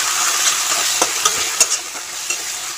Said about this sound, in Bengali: মশলাটা বেশ ভালো রকম 1 মিনিটের মতো সময় নিয়ে কষিয়ে নিয়েছি